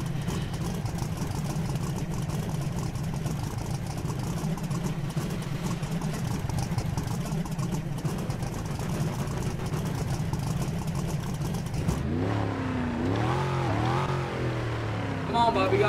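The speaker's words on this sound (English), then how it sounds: "I'm gonna try my trans brake" Video game car engine revving hard against a trans brake during a roleplay cash-day shootout, a loud sustained low drone that holds steady for about twelve seconds before breaking into rising and falling pitch sweeps as the car launches, with a voice heard over it.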